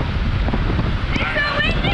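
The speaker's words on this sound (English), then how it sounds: "It's so windy!" Wind buffets a microphone outdoors on a summer day, a steady loud low rumble and gusting roar throughout, with a voice briefly audible beneath it.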